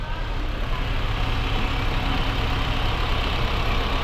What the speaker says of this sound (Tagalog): Nabuhay na yung makina ng Honda Jazz.